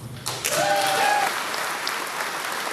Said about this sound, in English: Those claps are the sound of victory for people in favor of making Louisa County a Second Amendment sanctuary